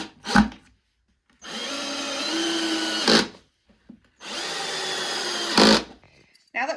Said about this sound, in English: So I'm just going to put the screws in now.